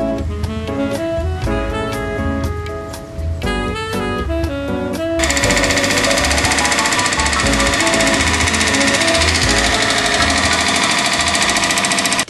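Loud construction machinery at a university building site, a steady mechanical hammering and engine rumble that grows denser and more continuous partway through, with no speech.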